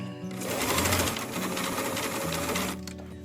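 A sewing machine runs a zigzag stitch along a cloth menstrual pad, a loud close mechanical whir with rapid rhythmic chatter lasting about three seconds before stopping.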